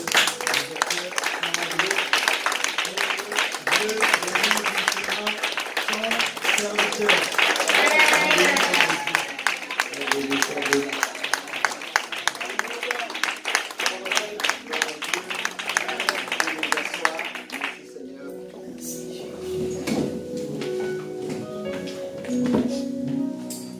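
An audience at a church gathering claps and cheers to welcome a preacher, a loud, sustained wash of clapping that cuts off abruptly near the end, with voices under it and a speaking voice afterward.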